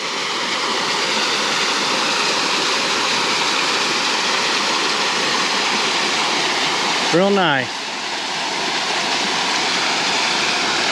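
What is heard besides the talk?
small waterfall flowing into a pool on a hiking trail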